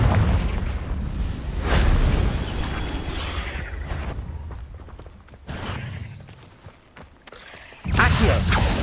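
Confringo explosion spells in Hogwarts Legacy go off as a string of loud, booming blasts with crackling debris between them, each burst rolling out and fading before the next, amid battle noise.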